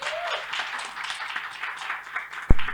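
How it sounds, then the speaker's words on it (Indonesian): Steady applause from a studio audience at an Indonesian talk show on customs regulations, many hands clapping evenly at moderate loudness, closing with a sudden low thump. "kita berikan tepuk tangan dong buat kita semua yang ada di studio"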